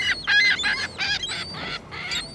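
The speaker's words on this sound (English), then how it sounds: "There are a lot of birds." Geese and other waterbirds honk repeatedly at a lake beach, a run of loud, close calls in quick succession with steady outdoor background and no talking.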